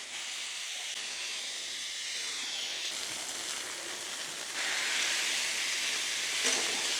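Smash burger patties sizzling on a hot griddle, a continuous bright hissing sizzle that holds steady and swells louder partway through, with no talking over it.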